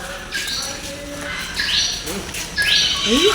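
Sharp, rising squawks and shrill calls of parrots sound nearby, several in quick succession, over a murmuring background.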